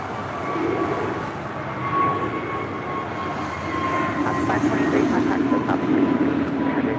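A Philippine Airlines Boeing 777 taxis into the first gate at LAX, its jet engines a steady rumble and whine heard from a distance, with a faint tonal hum above and a slight swell partway through.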